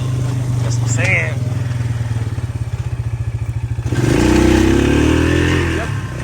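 Four-wheeler ATV engine, just running again after major repairs, idling with a steady pulsing chug, then revving up louder near the end of the clip, recorded up close.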